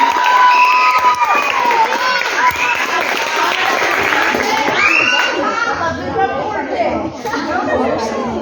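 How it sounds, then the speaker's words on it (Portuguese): Students at a school presentation applaud and cheer, with loud clapping mixed with lively chatter, shouts and children's voices throughout. "Salva de palmas, gente."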